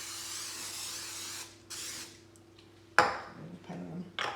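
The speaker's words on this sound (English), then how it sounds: "Then I spray the bowl." A short hiss of cooking spray bursts out into a bowl, stops, then sprays again briefly, followed by a sharp clink and light rustling in a quiet room during bread making.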